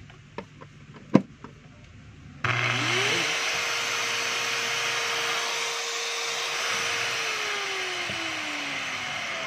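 A DeWalt DWP849X polisher switches on after a few faint clicks and taps, its motor spinning up to a steady, loud whine that holds evenly with a slight pitch drop near the end, with no talk over it.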